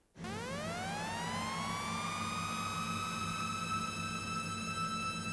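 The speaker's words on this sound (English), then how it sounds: "I'm going to make a siren real quick for a little ambient touch." A synthesized saw-wave siren tone rises sharply, then holds a high, bright, steady wail over a low droning hum, loud and continuous throughout.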